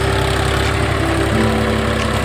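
Farm tractor engine running at a steady idle, a loud, close, continuous low rumble and vibration with no talking.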